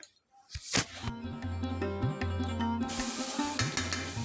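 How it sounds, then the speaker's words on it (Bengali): Kohlrabi pieces being stirred with turmeric and salt in a pan, giving a soft sizzle with light scraping strokes that come and go over a steady frying hiss, with a faint musical tone running underneath. "নুন আর হলুদটা দেওয়ার পরে হালকা হাতে মিশিয়ে নেব নাড়াচাড়া করে"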